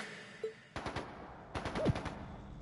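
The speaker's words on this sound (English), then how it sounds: "It's gunfire. And not just gunfire either." Two bursts of rapid automatic gunfire in the video game Trails into Reverie, each lasting under a second, separated by a brief pause, with a short whistling tone between them.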